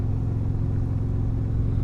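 Deep, steady rumble of a motorcycle engine cruising at a constant pace while riding, loud and close with no change in pitch.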